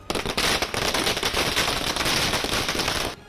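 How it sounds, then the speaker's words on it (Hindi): Fireworks and firecrackers go off outside Shah Rukh Khan's bungalow Mannat in Mumbai, a dense, continuous burst of crackling pops sustained for about three seconds, loud and close, with no talk. "थोड़ी ही देर में आतिशबाजी भी शुरू हो गई।"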